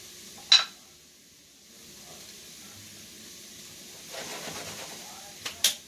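Chopped, peeled zucchini drops into a soup pot with a sharp clatter, then a soft sizzling hiss builds as it is stirred, ending in a couple of quick knocks against the pot.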